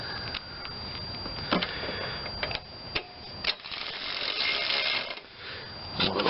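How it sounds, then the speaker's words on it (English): A ratchet tightens carburetor bolts on a Craftsman AYP riding mower, giving close metallic clicking runs broken by sharp taps and clanks, with no one speaking. "I'm going to bolt it on before I put the fuel line on"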